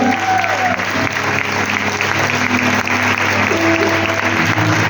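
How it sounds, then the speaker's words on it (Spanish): A church congregation claps loudly and steadily through a worship service, a dense, continuous wash of applause filling the whole moment with faint crowd voices mixed in. "Dale un fuerte aplauso al Señor."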